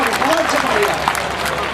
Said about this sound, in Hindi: विदाई की तालियां दीजिएगा